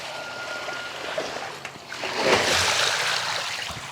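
Water gushes and splashes out of large tipped barrels being slowly released on a farm during chicken processing cleanup, a broad rushing wash swelling midway and continuing loud and steady to the end.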